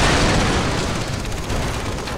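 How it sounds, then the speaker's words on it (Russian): Explosions erupt in Far Cry 3 as a vehicle nears an oil storage depot, producing a continuous loud roar of booms and bursts across the whole clip. "Воу, все взрывается."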